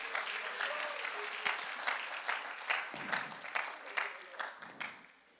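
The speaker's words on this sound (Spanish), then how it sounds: "Denle un aplauso al Señor en esta tarde." A church congregation claps in rhythmic unison, fairly faint and distant, with bursts of cheering voices mixed in before the clapping stops abruptly.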